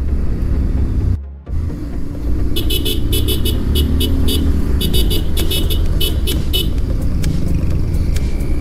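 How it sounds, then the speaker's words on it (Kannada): A Bajaj Pulsar 150 motorcycle idles with its engine running while its loud horn sounds in a rapid series of short, close bursts, with no talking. "ಇದ್ರ ಹಾರ್ನ್ ಅಂತ ಕೇಳಕ್ಕೆ ಹೋದ್ರೆ"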